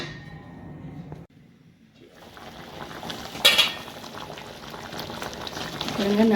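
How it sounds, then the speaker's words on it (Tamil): Crab masala bubbling and simmering in a covered pot, with a sharp clink of metal lid or utensil midway and a steady boiling hiss that grows louder, while a person talks over it. "இப்போ நண்டு வேகட்டும். மூடி போட்டு வச்சுக்கலாம்."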